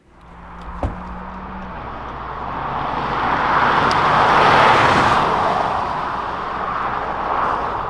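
A 2021 Hyundai Kona with the 1.6-liter turbo engine pulls away on the road, a door-like thump giving way to a rising, broad engine and road roar that swells, levels off and stays loud, with no voices.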